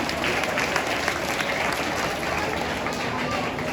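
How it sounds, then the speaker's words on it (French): Dense, steady audience applause fills a church-style gathering on World Children's Day, a continuous wash of many hands clapping at even loudness from start to end. "applaudissements pour cette exclamation"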